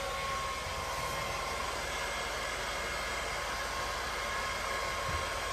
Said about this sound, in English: Now let's start to mottle it a little bit with a hairdryer